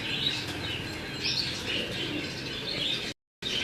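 Pigeons kept by a fancier coo and chirp close by, with soft fluttering of wings over a continuous background of bird calls, before a brief cut to silence near the end.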